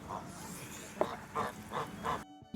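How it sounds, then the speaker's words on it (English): A Toulouse goose sounds off close by in a series of rough honking, hissing calls with short gaps between them, fairly loud against the background, and there is no speech. "So if you can't cope with hissing, then geese are not for you."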